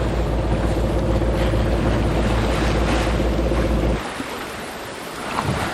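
Sailboat motoring under engine at night in the Surigao Strait off North Dinagat Island, a steady loud low engine drone with wind and water wash for about four seconds, then dropping to a quieter hiss of sea and wind.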